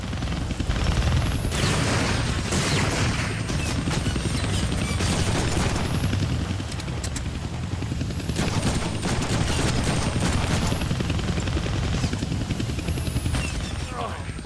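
Guns fire in the Deadpool video game on PS3, a sustained rattle of gunfire at a helicopter with a whirring chopper drone beneath it and a voice speaking over the action.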